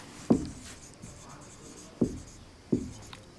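Chalk or marker strokes on a classroom board as an English sentence is written, three sharp scratchy taps spaced about a second apart with softer strokes between, close and clear over a faint room hum.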